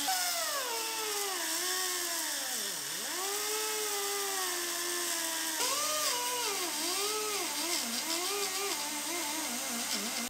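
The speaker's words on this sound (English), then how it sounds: "so we're just going to grind those out" A grinder works on the seam welds of a rusty bracket that braces the quarter panel on a 1965 car frame, giving a loud continuous whine whose pitch dips and rises as the load changes.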